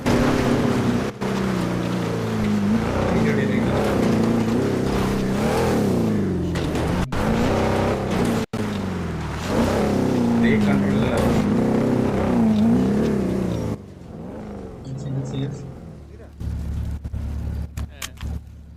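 In a video game, a car struggles off-road with a loud, wavering engine drone that rises and dips, cut by brief dropouts and fading into quieter, patchy sound near the end while someone talks over it.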